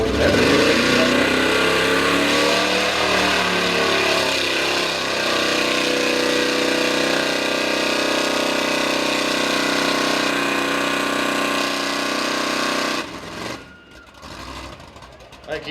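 A small block Ford engine roars at full revs as a truck charges through a mud bog race pit, loud and sustained before cutting off abruptly, with an announcer talking over the noise.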